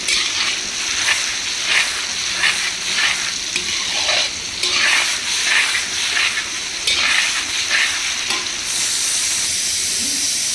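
Soybean and potato pulao stirred and frying in a pan, giving a loud, close sizzling hiss broken by steady scraping strokes of the spoon, with no talking.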